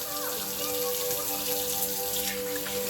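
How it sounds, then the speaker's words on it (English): Water runs from a sink faucet while hands are rinsed, a steady, even splashing hiss that continues without a break and with no voices. "You're going to rinse hands thoroughly again while holding hands lower than wrists and elbows."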